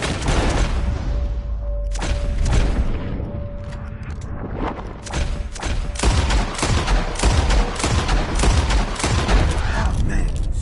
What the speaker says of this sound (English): whoever shoots 4 birds out of the sky first wins